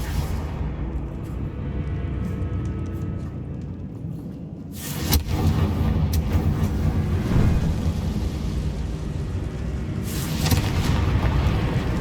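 Confringo blasting spell in Hogwarts Legacy erupting with a deep, rumbling boom, followed by a second burst of crackling blast noise, both loud against a constant low rumble.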